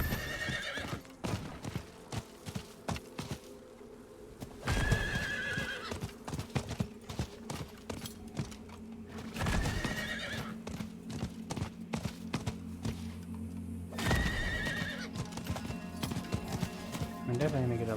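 Horse hooves clip-clop steadily in Diablo 4, with several loud whinnies and neighs breaking in at intervals over the hoofbeats.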